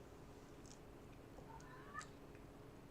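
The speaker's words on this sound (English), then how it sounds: "I hear a cat that in distress and it needs help." A distressed cat meows faintly in the distance, one or two thin, rising cries over a steady background hum.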